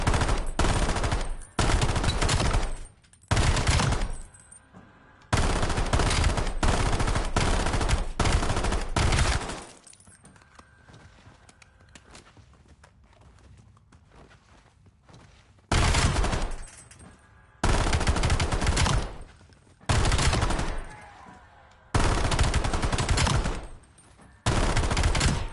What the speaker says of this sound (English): So if we rapid fire it, notice something? Our fire rate never slowed.